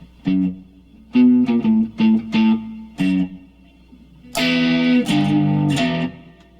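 A distorted electric guitar plays a choppy riff in short chugging bursts, then a longer sustained, crunchier phrase with heavy overdrive.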